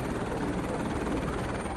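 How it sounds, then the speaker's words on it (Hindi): A passenger helicopter on the Jammu to Vaishno Devi route flies close by, its rotor thumping in a fast steady chop over a loud continuous engine roar, with no talking. "जम्मू से वैष्णो देवी भवन के लिए हेलीकॉप्टर सेवा हुई शुरू।"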